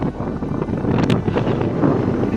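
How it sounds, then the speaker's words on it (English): Gusty wind buffets the microphone on an exposed road climbing out of a village toward open moorland, a steady broadband rush with a brief stronger gust, no talk. "it's getting a bit windy as I've got out of the houses"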